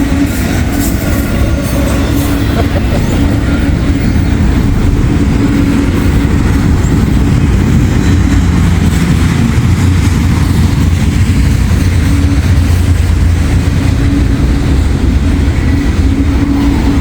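Freight train I-142, running from Jacksonville, Florida to North Baltimore, Ohio, rumbles past close by, a loud continuous roar of rolling wagons with rhythmic wheel clatter sustained throughout.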